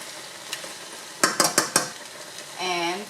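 Spaghetti tossed in a pan with pork and broccoli, oriental style: a quick series of four or five sharp metal utensil clanks against the pan over a light sizzle, ending in a brief whistling tone.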